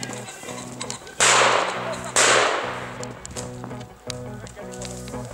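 Two sharp shotgun blasts during a pheasant hunt, about a second apart, each fading into a brief echo over background music.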